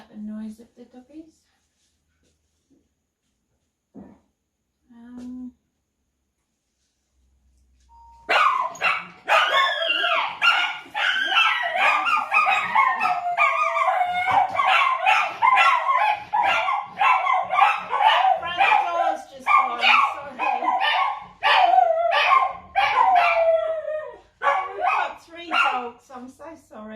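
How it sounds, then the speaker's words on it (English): Small pet dogs break into a rapid, continuous flurry of yapping barks that run close and loud for most of the stretch, after a mostly quiet opening with a few faint sounds. "Sorry about the noise of the doggies."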